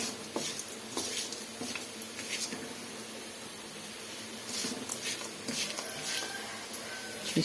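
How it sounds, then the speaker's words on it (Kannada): Grated coconut frying in oil in a pan on the stove for coconut rice, giving a soft, steady crackling and pattering sizzle at low volume, with occasional sharper pops and no talking. "ಈ ಥರ ಆಯಿಲಲ್ಲಿ ಸ್ವಲ್ಪ ಚೆನ್ನಾಗಿ ಕೊಬ್ಬರಿನ ಫ್ರೈ ಮಾಡ್ಕೊಬೇಕು"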